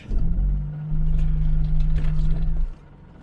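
A Morris 1300 engine revs hard and throaty during power shifts, a loud close rumble that holds steady, rises, then drops away near the end.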